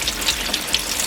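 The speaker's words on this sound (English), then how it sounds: "it's gonna be spraying really fast with the gas pump" Water spraying hard from a gas-pump-driven highbanker, a dense, steady hiss of rushing spray, loud and close with no pauses.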